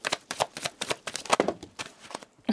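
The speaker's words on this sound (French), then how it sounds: "j'en demande 3, j'ai 3 cartes qui tombent" Tarot cards are shuffled by hand close up, a rapid series of crisp riffling flutters and slaps in uneven bursts.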